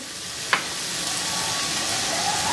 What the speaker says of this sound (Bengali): সাথে একটু লবণ দিয়ে ভেজে নিব, যাতে টমেটোটা একটু নরম হয়ে যায়।